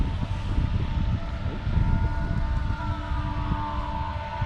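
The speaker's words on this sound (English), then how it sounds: "Hear sirens." Sirens wail near the Soo Locks during lock construction as a blizzard approaches, a faint gliding tone over heavy low rumble of wind or engine noise, steady and distant.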